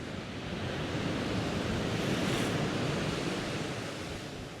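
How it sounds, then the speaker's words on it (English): Sea waves break on the shore at Ventnor in a steady, close rush of surf that swells louder toward the middle and eases off again, with wind noise and no voices. "Let's go around here and have a look at these waves a bit."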